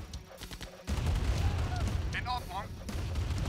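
Gunfire and explosions from units fighting in the Command & Conquer Remastered strategy game, a dense rumbling barrage of booms and shots that swells after a quieter start, with a few brief synthetic tones over it.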